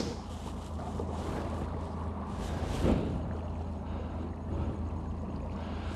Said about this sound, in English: I need to use the motor because they are at 50 meters